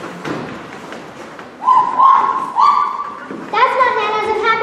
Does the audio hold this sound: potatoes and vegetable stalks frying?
no